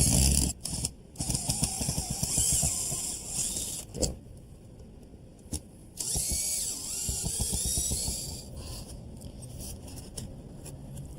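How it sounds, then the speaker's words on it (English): Screws and washers are backed out of wet roof fiberboard, heard as close, rapid ratcheting clicks from a driver in several bursts over a hissy background, with no talk. "the first thing we want to do is remove the two screws and washers here so we can cut out this damaged piece"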